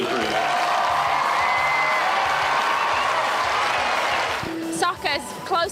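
A crowd applauds steadily with some cheering at a soccer event for the referees arriving to work a race, the clapping sustained and loud before tapering into scattered voices near the end.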